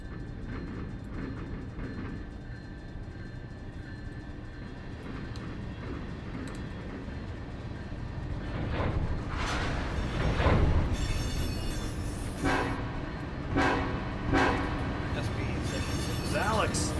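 A train in the Run 8 railroad simulator passes with a deep rolling rumble, and its K5LLA horn sounds in several strong blasts over the second half while a person talks.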